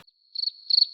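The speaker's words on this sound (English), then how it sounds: "Insert crickets." Crickets chirp in a high, steady trill that swells into two louder pulsing bursts, alone with no voices or other sounds.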